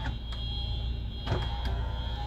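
A Toyota Velfire's electric power window motor whirs steadily nearby inside the cabin of the 2011 2.4 automatic, with a couple of faint clicks partway through.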